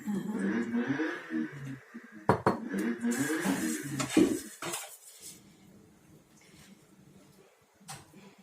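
Anchovies being laid into a frying pan for hamsi tava, with clinks and scrapes of the pan and utensils under a woman's continuous speech that fades toward the end, leaving a few soft knocks.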